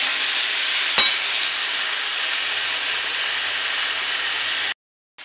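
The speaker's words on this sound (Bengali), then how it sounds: "টমেটো, কড়াইশুঁটি, ক্যাপসিকাম যা কেটে রেখেছিলাম সব ঢেলে দিলাম। এগুলোকে কিছুক্ষণ ভাজা করবো।" Chopped tomatoes, peas and capsicum sizzle in a hot pan with a steady, bright hiss. A single sharp clack comes early on, then the sizzling continues evenly until it cuts off near the end.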